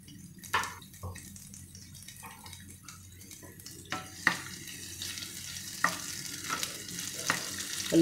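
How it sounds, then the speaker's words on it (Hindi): Chopped onion fries in a pan, giving a soft, steady sizzle. Occasional clinks and scrapes of stirring come and go over it, and everything stays fairly quiet with no talk. "हल्का गोल्डन होने तक हम इसको फ्राई करेंगे।"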